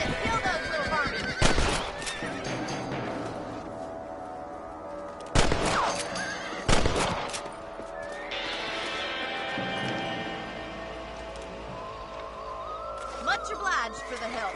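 Horses whinnying in the Western video game Red Dead Redemption, several sharp loud neighs spaced out over gunfire-like bursts, with game music and voices talking underneath.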